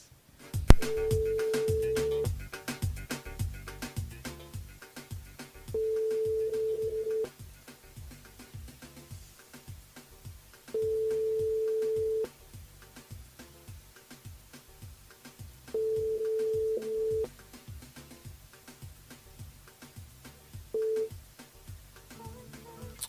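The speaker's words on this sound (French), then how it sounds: "on appelle Rodolphe ce soir, les amis, sur le standard" A radio phone-in call to a listener near Saint-Louis goes unanswered: five evenly spaced, loud steady busy-signal tones sound alone over a faint background hum, each lasting about one to two seconds.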